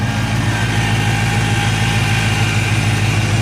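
A 1995 Ford Mustang with the 5.0 V8 idles steadily after its first start in about four months, a loud, constant low rumble with no talk over it.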